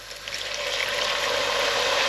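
Brandy splashes into a hot pan on a turned-up burner for French onion soup, making a steady, loud hissing sizzle that builds quickly and holds alone.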